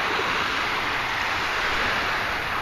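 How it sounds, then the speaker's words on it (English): Small, gentle ocean waves wash onto a beach by a bay at low tide, a steady broadband surf rush with light wind, continuous and fairly near, no voices. "it's just some baby waves"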